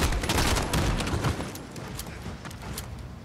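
Loud, dense gunfire from the video game Call of Duty Modern Warfare, with rapid overlapping bursts that keep up steadily for the whole stretch and then ease slightly toward the end.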